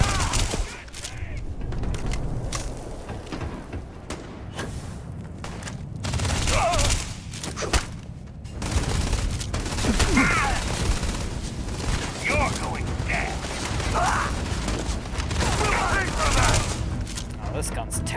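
Gunfire from a weapon in the space game Starfield, bursts of shots scattered through the clip amid combat noise and ongoing talk.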